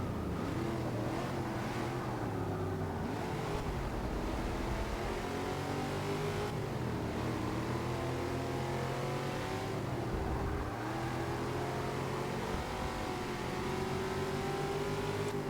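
A stock American muscle car in Forza Motorsport 6 revs and accelerates continuously, its engine note climbing and dropping through gear changes, loud and constant throughout with no voices.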